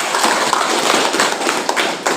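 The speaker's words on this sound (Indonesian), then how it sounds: "Aplaus untuk Reni." A classroom of students claps together in dense, loud applause with no pauses, rapid overlapping hand claps close to the microphone, and no talking.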